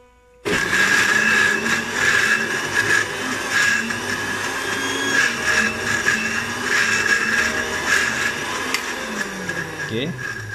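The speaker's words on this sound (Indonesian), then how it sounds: "Kita kisar tiga bahan tadi sehingga lumat, ia betul-betul halus ya, kerana kita nak buat sambal ya" A kitchen blender grinds three sambal ingredients to a fine paste for nasi lemak, a loud steady motor whir with a high whine that runs continuously from start to end, briefly shifting pitch near the finish.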